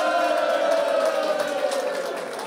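Audience at a carnival café in Afferden breaks into loud, sustained cheering and applause for a couple, a dense crowd roar with whoops that stays steady and fades slightly at the end.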